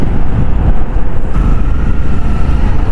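City traffic heard from a second-hand Honda CB 250R motorcycle ride: a loud, continuous low rumble of engines mixed with heavy wind buffeting the microphone, with no voices.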